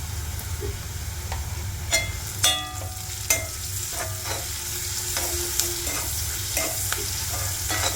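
Onion and dried red chillies sautéing in a pan for a Malayalam-style ivy gourd stir-fry, a steady low sizzle with a handful of sharp spatula scrapes and clinks spread through the clip, no one talking.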